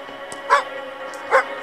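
Cartoonish dog barks from the video game Good Pizza Great Pizza, two short yelping bursts about a second apart over a steady background hum.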